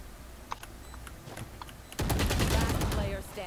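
Gunfire in a ranked tactical shooter match: scattered quiet clicks and small shots at first, then a sudden burst of loud rapid fire that continues for over a second before fading.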